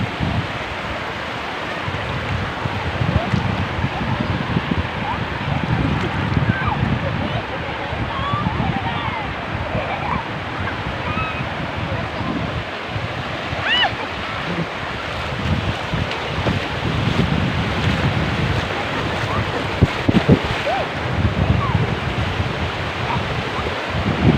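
Small waves washing in at a sea beach with steady wind buffeting the microphone, a continuous close rush and surge, while someone talks intermittently.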